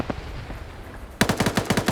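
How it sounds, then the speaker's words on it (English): Minigun fire in a video game: a quieter stretch gives way to a loud burst of rapid, rhythmic automatic shots that keeps hammering through the final second. "We got minigun fire going in."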